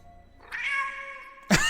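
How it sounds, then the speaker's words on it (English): A cartoonish cat meow played from a soundboard sounds once, long and clear with no voices, then a louder burst cuts in at the very end. "I'm merely demonstrating that this shows the cat's meow"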